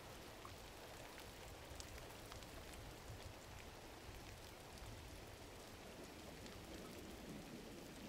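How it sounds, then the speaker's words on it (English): Steady rain pours throughout a scene in the video game Gris, a dense, even hiss of falling drops with no breaks and no voices. "And it's raining."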